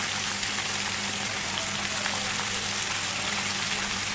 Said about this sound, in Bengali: প্রায় দু তিন মিনিট সবজিগুলোকে ভেজে নিয়েছি